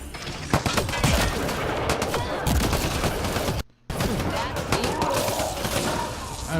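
Rapid gunfire from a Mass Effect Andromeda firefight, dense bursts and individual shots crackling almost nonstop and loud, with a brief gap midway, mixed under a player talking.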